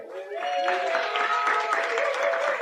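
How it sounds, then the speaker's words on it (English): Live audience applause at a comedy club taping, steady dense clapping from a crowd that swells quickly and holds for a couple of seconds, with a faint voice over it. "Give you everybody a round of applause real quick."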